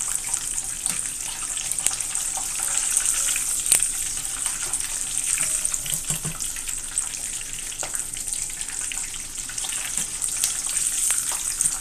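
Breaded pieces deep fry in hot oil with a steady, loud, close hiss and crackle that runs without a break and has no voices over it.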